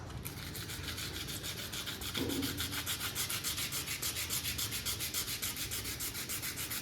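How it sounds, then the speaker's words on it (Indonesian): Steady rhythmic scraping of sandpaper rubbing back and forth over a powder-coated surface, close and continuous, with a brief low scrape partway through. "Nah ini di bagiannya ini aja, nanti di amplas."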